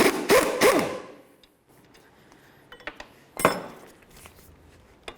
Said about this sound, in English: hold on to the bolt side of this with our 18mm and then remove the nut side, also with an 18mm